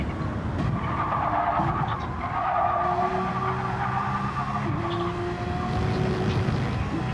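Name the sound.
race car tires under strain in racing video game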